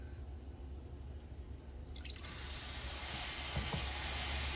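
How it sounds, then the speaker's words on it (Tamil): Saffron-infused milk poured into a cooking coconut burfi mixture, a soft steady liquid hiss and trickle building gradually, close and continuous with no talking. "இப்ப இந்த ஸ்டேஜ்ல நம்ம வந்து எடுத்து வச்சிருந்த குங்குமப்பூ பாலை வந்து ஊத்திரலாம்."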